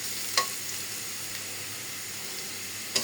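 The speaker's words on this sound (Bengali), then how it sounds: "ডাটাগুলো একটু হালকা করে ভাজা নিতেছি।" Vegetable stalks frying lightly in a pan on a gas stove sizzle with a steady close hiss, broken by two brief scraping stirs.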